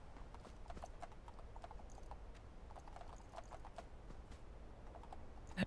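Horse hooves clip-clop steadily in the video game Fallout London, a quiet, even rhythm of light hoof strikes on a hard surface, heard alone without talk.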